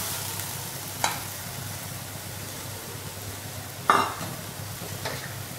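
Tomatoes and onions sauté in a pan for paneer butter masala, a low steady sizzle with two sharp utensil clicks against the pan.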